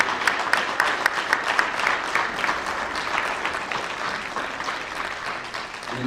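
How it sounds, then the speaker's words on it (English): Audience applause at a high school signing day for athletes signing national letters of intent, sustained clapping with a few sharp individual claps standing out early, gradually easing toward the end. "Give your teammates, these gentlemen that are signing national letters of intent today, a huge ready round of applause."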